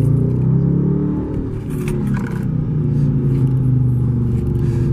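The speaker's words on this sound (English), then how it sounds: "you're not gonna get tired of the sound of this car, definitely not" A Dodge Charger R/T accelerates from about 20 mph with a deep, loud engine rumble that builds and holds steady over several seconds, heard from inside the car alongside faint rattles and scrapes.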